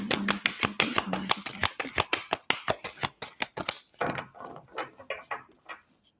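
Cards are shuffled by hand in a fast run of sharp, evenly spaced snaps and riffles, close and fairly clear, slowing into softer, scattered shuffles near the end with no talking.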